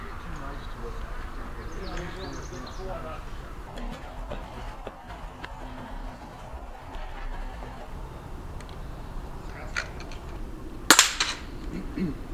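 A single sharp air rifle shot cracks near the end at a field target rifle competition outdoors, preceded by quiet ambient murmur and faint voices.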